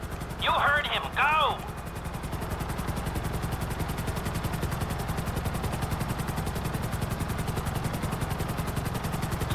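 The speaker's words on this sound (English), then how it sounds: "I'm bringing the chopper back around." A helicopter in GTA V thrums steadily with rhythmic rotor chop for the whole stretch, loud and continuous, with a couple of brief whistling sounds near the start.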